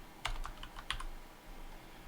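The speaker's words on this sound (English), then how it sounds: "as soon as I start typing something in here" Fingers tap a computer keyboard in a few quick, close clicks, a short burst of keystrokes followed by quieter pauses over soft room noise.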